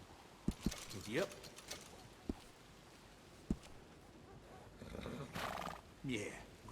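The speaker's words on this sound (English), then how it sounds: "Yeah, grooming a horse sure makes it a beaut." Horse in Red Dead Redemption 2 whinnying while being groomed, a few sharp snorts and neighs with soft game sounds, under frequent talk.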